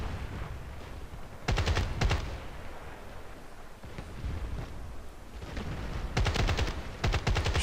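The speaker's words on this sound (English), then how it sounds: "But you can pop off about 2 or 3 rounds that are pretty precise and dead on at the enemy" An assault rifle in the video game Battlefield Play4free fires short sharp bursts of two or three rounds, crisp gunfire cracking at intervals over a constant rumbling battlefield background.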